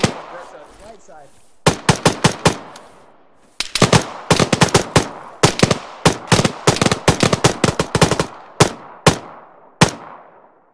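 Rapid bursts of gunfire from a Phalanx co-op shooter, loud and close, firing in clustered volleys of sharp cracks with short gaps between bursts, with faint voices in the background at the start.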